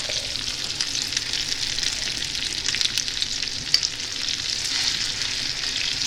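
Liège meatballs fry in a pan with a steady, close, bright crackling sizzle that holds level throughout, with one brief clack near the middle and no talk.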